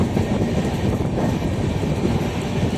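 An Indian Railways WAP7 electric locomotive hauls the Rani Chennamma Express departing Hubballi, a loud, close, continuous rolling rumble of wheels and coaches with rhythmic clatter.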